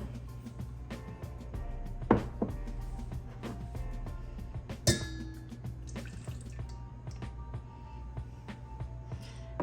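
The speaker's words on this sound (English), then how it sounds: "So we're first going to start with our melted butter." Melted butter poured into brownie batter for caramel brownies, heard as a quiet liquid trickle with scattered light clinks and taps against a bowl in a calm kitchen.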